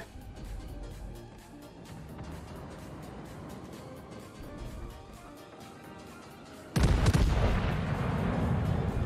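A massive broadside from the 356 mm guns of the USS Florida battleship in World of Warships, one sudden loud boom near the end after quieter ambient rumble, followed by a sustained roaring decay.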